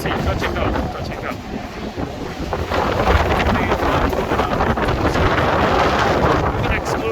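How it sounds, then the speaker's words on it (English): Heavy wind at a high-rise construction site on levels 25 and 26 of 205 North Quay roars and buffets the microphone in a loud, continuous rush that strengthens after a few seconds. "You get more wind coming from this end, this side here."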